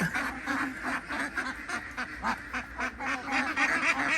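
A flock of laying ducks quack continuously and noisily while being delivered, overlapping calls in a busy rhythmic chorus at close range.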